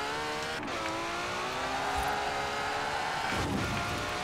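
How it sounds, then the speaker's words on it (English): A Ferrari engine runs at full throttle in the racing game Forza Horizon 4, revving hard with rising and falling pitch sweeps as gears change, loud and close throughout. "here you can go full throttle with the Ferrari"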